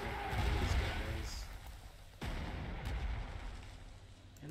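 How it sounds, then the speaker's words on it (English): Artillery fire in the video game Panzer Corps 2: rumbling, booming blasts with a sharp crack midway, layered over a continuous low roar of battle noise. "Going to artillery the shit out of these guys."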